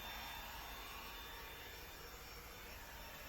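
A small flex blower roars steadily up close, blasting excess Dura dressing off a tire's tread blocks, a loud continuous whooshing rush of air that holds level throughout.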